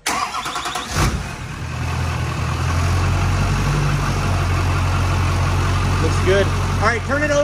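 A Duramax diesel pickup cranks over and catches, settling into a steady, loud idle that runs close by, with a few short voice-like sounds near the end.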